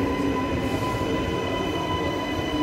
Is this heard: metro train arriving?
yes